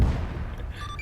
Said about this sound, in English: It was a magazine explosion.